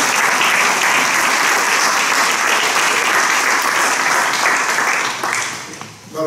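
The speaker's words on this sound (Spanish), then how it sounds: "Un aplauso para ellos." Festival audience applause at an international flute festival, a loud, sustained wall of clapping that thins and dips near the end before swelling briefly again.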